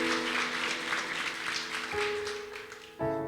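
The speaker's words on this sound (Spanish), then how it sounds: "Démosle un aplauso al Señor" A church congregation applauds at a Spanish-language service, a dense wash of clapping beneath sustained organ or keyboard tones, the chord shifting partway through and a new chord entering near the end.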